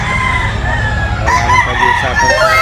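A stag gamecock crows loudly and close by, one drawn-out, wavering call over a busy background of other roosters and fowl.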